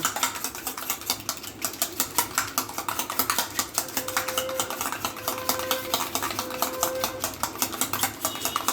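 Rapid rhythmic clicking and tapping of a whisk or fork beating egg yolks with salt in a bowl, continuous close-up strokes at a steady fast pace with no talking.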